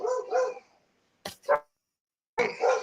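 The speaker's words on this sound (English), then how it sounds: "My dogs are going nuts for some reason." Dogs barking at home, a couple of loud, close bursts of barks separated by silence.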